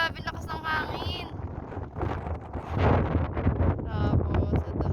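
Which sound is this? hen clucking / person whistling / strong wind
strong wind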